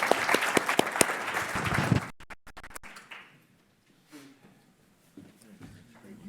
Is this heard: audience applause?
yes